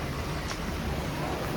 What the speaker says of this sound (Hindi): ये बारिश शुरू हो गई है